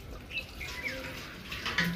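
Tap water running into a large bottle to be chilled in the fridge, a faint, steady trickling splash that is quiet and close.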